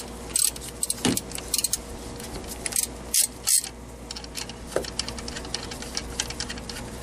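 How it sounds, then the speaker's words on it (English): A bolt being loosened under the hood of a 2013 Kia Rio during a water pump replacement, heard as scattered metallic clicks and ratchety clatters, close and moderately loud, with no talk. "you just loosen this bolt up, and then you're going to pull the alternator back."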